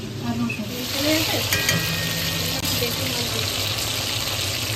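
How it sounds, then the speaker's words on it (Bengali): Catla fish sizzles and spits in hot oil in a pan, a close, continuous frying hiss with occasional faint clinks. "কাতলা মাছ ভাজা বসিয়েছে"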